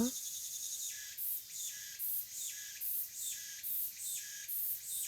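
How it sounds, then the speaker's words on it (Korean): High, buzzing cicada calls pulse in a regular rhythm, rising and falling repeatedly, steady and moderately distant in a quiet countryside setting. "매미 소리가 아마 들릴 거예요."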